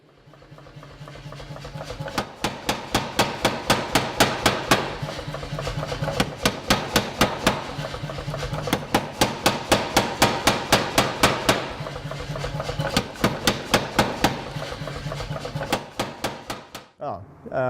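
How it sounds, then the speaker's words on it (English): Rapid, steady hammer blows ring out on an anvil in an artistic blacksmith's workshop, dozens of sharp metallic strikes in quick rhythm, pausing briefly before resuming, close and loud. "It also takes a lot of strength to smash hammer on anvil."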